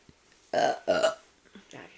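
Two loud, drawn-out burps in quick succession, each lasting about a third of a second, followed by a fainter third burp, all close to the listener with no talking.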